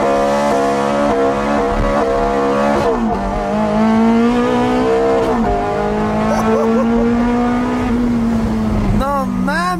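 Ferrari F430 engine revving hard on a dyno with rising and falling pitch sweeps, loud and close, while a voice talks over it.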